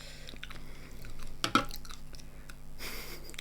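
Soy-marinated Spanish red prawns, pickled Chinese-style, chewed up close with soft, wet, squishy mouth sounds and one brief louder juicy crunch midway.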